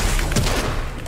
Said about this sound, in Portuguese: Toma um tiro.